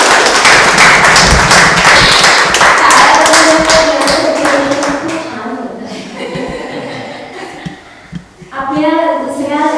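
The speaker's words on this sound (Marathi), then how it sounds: "आपण जोरदार टाळ्या" Audience applause at a gallery unveiling and contest awards ceremony, a dense burst of close, loud clapping that fades, followed by a voice over a microphone.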